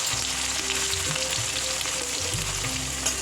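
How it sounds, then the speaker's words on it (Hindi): Sliced onions frying in hot oil over a low flame, a steady close sizzle with faint stirring clatter throughout and no talk. "ये प्याज को मैं इस तेल में डाल रही हूँ।"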